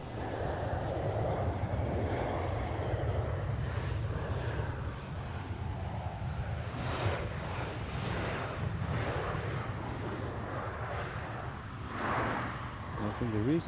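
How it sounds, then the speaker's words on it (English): Lufthansa airliner touching down at Schiphol Amsterdam on a windy day: a steady broad roar of engines and wind fills the whole stretch, with swelling jet whine and gusty rumble, heard from a distance. "Right before Lufthansa flight touching down now."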